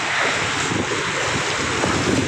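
Strong sea waves wash onto the shore at the sea near a temple on Koh Phayam, Ranong, heard as a continuous loud roar buffeted by heavy wind on the microphone.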